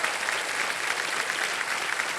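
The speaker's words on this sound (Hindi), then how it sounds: "एक बार फिर से जोरदार तालियां बज जाए" A studio audience at a televised quiz show gives steady, dense applause, a continuous even wash of many hands clapping at moderate loudness with no voices above it.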